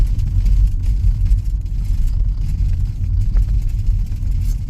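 Car interior rumble while driving slowly past a long queue of vehicles outside a sugar factory in Surin, with a steady, loud low engine and road drone throughout.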